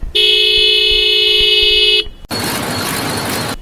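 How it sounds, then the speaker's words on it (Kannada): A Bajaj Pulsar 150 motorcycle's double horn gives one long, loud, steady honk at close range, then stops abruptly, followed by a burst of broadband noise. "ಆಮೇಲೆ ಈ ಗಾಡಿದು ಹಾರನ್ ಕೇಳಿ ಹೆಂಗಿದೆ ಅಂತ"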